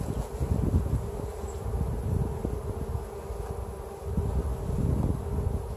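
Steady, dense buzzing of many honeybees close by during a beehive inspection, a continuous droning hum that swells and dips slightly, with no voices.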